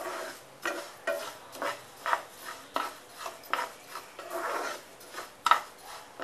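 Moong dal, urad dal, coriander seeds and cumin dry-roasting together in a pan for thalipeeth flour, stirred in a steady rhythm of about a dozen dry, gritty scraping strokes, close and clear with no talk.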